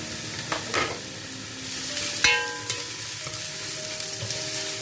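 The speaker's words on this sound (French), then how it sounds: "Donc je vais mettre un filet d'huile dans la marmite. Et je vais blanchir directement mes oignons." Onions sizzling in a drizzle of oil in a cooking pot, a steady close crackling fry with a few sharp stirring clatters of a utensil against the pot, no voices.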